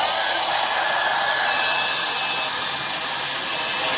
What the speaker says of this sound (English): we're going to take our blow dryer, put it on high